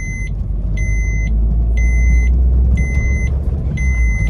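A 2017 Maruti Swift drives in third gear, its engine a steady loud low drone with five regular electronic beeps chiming over it.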